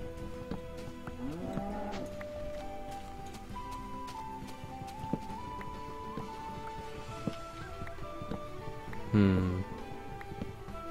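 A cow in the Minecraft video game lets out a low bovine moo near the start, heard beneath someone talking, with game background noise and a brief louder burst later on.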